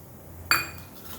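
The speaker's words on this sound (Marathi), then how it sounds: "कढाई ठेवणार तर कढाई ठेवलं आहे" A metal kadhai (wok) set down on a stove, heard as a single sharp, close clank with a short ringing tail over a low background hum.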